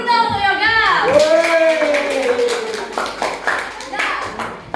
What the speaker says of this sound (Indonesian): Tepuk tangan dulu dong untuk Yoga.